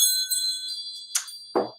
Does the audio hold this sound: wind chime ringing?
yes